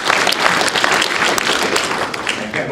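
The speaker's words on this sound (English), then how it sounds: "Moses Schindler is clapping with a blue finger" A quiz show studio audience applauds, with dense, even clapping that holds steady for a few seconds and a voice faintly present underneath.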